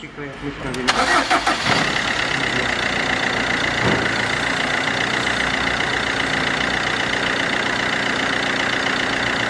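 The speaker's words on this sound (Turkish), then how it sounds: "Araca marş yapıyoruz." A Fiat Palio 1.3 engine cranks and catches after an exhaust repair in a workshop, then settles into a steady, loud idle that continues throughout.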